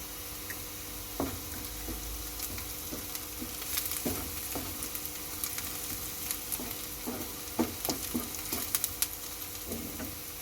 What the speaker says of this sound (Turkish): İkisi bir kavrulsun diye turşularımızı ilave ediyoruz.